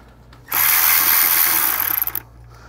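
A power tool whirs steadily as it backs an 8 mm ground nut off a BMW N52 engine during a valve cover replacement, one continuous burst of about one and a half seconds that stutters into quick pulses just before stopping.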